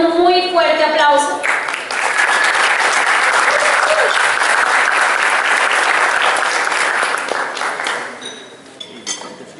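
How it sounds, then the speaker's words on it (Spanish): Loud applause from a conference audience at EventoCPA 2018 as two presenters are invited onto the stage; it swells after a brief opening sound, holds steady for several seconds, then fades out. "itamos a tarima a Elba Castro y a Ian Bernal con un muy fuerte aplauso."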